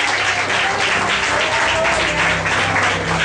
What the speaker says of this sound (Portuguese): E uma salva de palmas bem bonita para louvar e glorificar o nome do Deus Todo-Poderoso